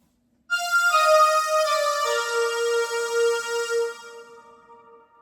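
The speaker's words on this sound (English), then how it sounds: "And it will sound like this when I put them both together." Two layered synth string patches play together as a sustained harmonic chord that swells in suddenly, shifts pitch partway through, then slowly fades, with no talking.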